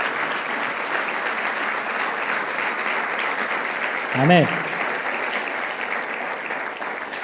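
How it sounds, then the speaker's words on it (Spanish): Applause from a church congregation fills the clip as a steady wash of many hands clapping, with a brief spoken word rising over it partway through. "Le vamos a dar un aplauso."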